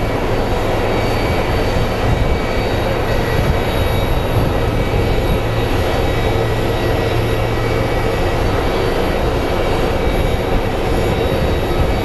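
A Union Pacific train rolls past near Phoenix Sky Harbor International Airport, a loud, steady rumble and roar with a sustained low hum, continuous for the whole stretch and with no voices.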